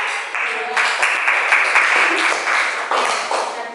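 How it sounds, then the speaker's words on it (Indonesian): A classroom of students claps together in a steady burst of applause, fairly close and loud, with a few voices heard beneath the clapping. "Beri tepuk tangan kalau tidak ada yang menanggapi."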